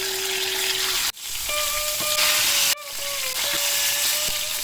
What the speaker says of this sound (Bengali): তেল গরম হয়ে গেছে, এবার মাছটা এদিক ওদিক করে ভাজা করছি